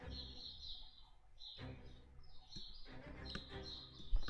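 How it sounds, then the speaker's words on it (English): Birds chirp outside a house, their bright tweets and calls repeating in short bursts against a low background hum, moderately distant and not especially loud. "Got the birds outside my house."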